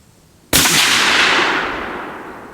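A single loud, close rifle shot from a Bergara B-14 HMR chambered in .308 cracks sharply, then trails off in a long, fading echo over a couple of seconds.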